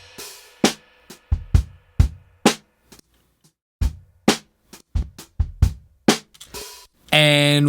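Raw, unprocessed drum break stems: loud separate kick, snare and cymbal hits in a loose, uneven groove over several seconds, each hit close and dry, ending in a short burst of sustained tonal noise.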